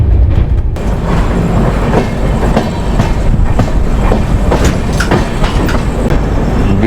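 Indian Railways Duronto Express 12286 running at high speed near Jhansi, a loud continuous rumble with steady wheel clatter and rail noise throughout, close and unbroken.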